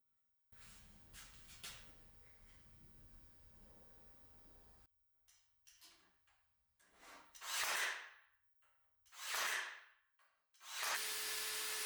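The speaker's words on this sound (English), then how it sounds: "I used the drill bit one more time to add a hole for the cable" A power drill whirs steadily into wood, then stops and restarts in several short, loud bursts as the bit bores through.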